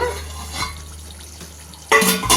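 Green chicken curry cooking in a pan over a low flame, a soft bubbling simmer with a brief stir and a couple of clinks of a utensil near the end, close and fairly quiet.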